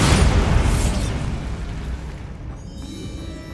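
Bombarda blasting spell cast in the video game Hogwarts Legacy, a loud broadband explosive burst at the start that decays into a rumbling, fading blast tail over several seconds.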